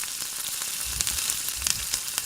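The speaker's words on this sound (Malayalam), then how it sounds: "ഈ തേങ്ങാക്കൊത്ത് നന്നായിട്ട് ഗോൾഡൻ കളറായി വരുന്നത് വരെ ഒന്ന് ഫ്രൈ ആക്കി എടുക്കാം." Coconut pieces frying in hot oil in a pan, a continuous dense sizzle with faint stirring scrapes, close and steady with no talking.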